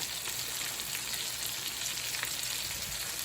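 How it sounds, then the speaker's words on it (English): Shredded red cabbage and carrots fry in a pan, giving a steady, fairly quiet sizzling hiss with light stirring scrapes and no talking. "Actually, let me stir this around first. Let it wilt."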